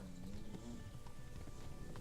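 A horse gallops in the medieval video game Kingdom Come: Deliverance, its hooves beating a fast, steady rhythm close by with a continuous gameplay bed behind them.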